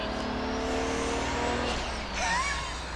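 A modified 1995 Nissan Skyline R33 GT-R inline six-cylinder revs up and falls back on a rev-matched downshift, heard close from inside the car, with a rising then falling engine tone and no talking.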